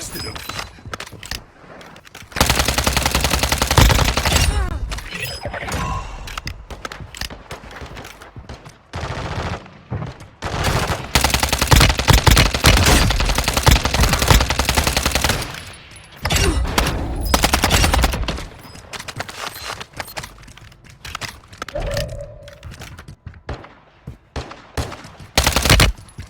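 Repeated bursts of gunfire from a military shooter video game, rapid volleys mixed with single shots, loud and dense across most of the stretch with brief pauses between exchanges.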